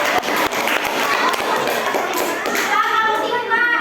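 A class of schoolchildren applauds a student group, a busy patter of many small hands clapping together at close range, mixed with children's voices and chatter throughout.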